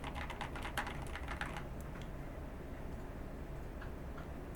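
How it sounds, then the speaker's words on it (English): Typing on an Epomaker RT100 keyboard fitted with Flamingo pink switches, a quick run of keystrokes at first that thins to scattered clacks over a steady low background hum. "Flamingo pink switches are very nice on this keyboard, as you can hear."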